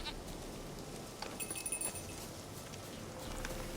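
A goat bleats in The Witcher 3 on PC, a few short nasal bleats near the middle over steady game ambience and low rumble.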